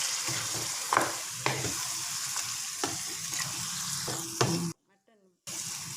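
Mutton cooking water poured into a pan of frying masala (chilli, coriander, meat masala and turmeric powders) for mutton curry gives a steady close sizzle with spoon scrapes, and a brief silent break near the end.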